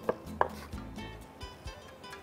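A knife finely chops onion on a board, with a few sharp taps up front followed by softer, irregular cuts, close and with no talking.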